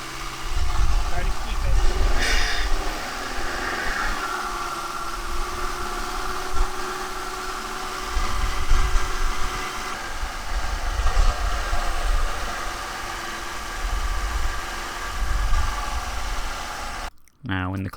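An Audi A3 engine is held at about 2000 RPM during an intake valve cleaning, giving a steady, somewhat uneven mechanical hum from nearby while a person talks over it.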